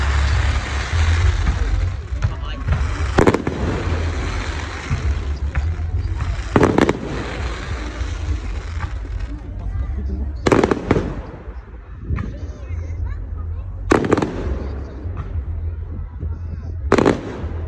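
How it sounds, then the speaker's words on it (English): Fireworks rockets exploding outdoors: several loud, sharp bangs a few seconds apart over a constant rumbling crowd and traffic background, with people talking nearby. "They're rockets, are they? They look like them. Those ones that make the sound."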